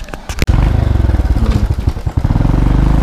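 Motorcycle starting off for a ride to the market, a loud close engine with rapid rhythmic chugging pulses after a brief clatter, running steadily throughout.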